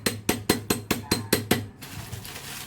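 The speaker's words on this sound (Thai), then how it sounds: "ทุบให้ละเอียดที่สุดเท่าที่เราทำได้นะครับ" Seven sharp, evenly spaced strikes pounding chocolate into crumbs in quick succession, loud and close, then a faint room hiss after they stop.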